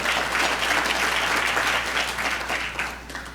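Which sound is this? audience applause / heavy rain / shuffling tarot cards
audience applause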